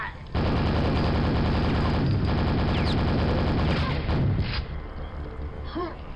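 Rapid, loud gunfire from a weapon in the remastered Quake shooter pounds in a dense, continuous burst for several seconds, then breaks off into scattered game sounds.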